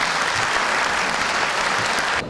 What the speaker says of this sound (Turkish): onlar için bir alkış rica ediyorum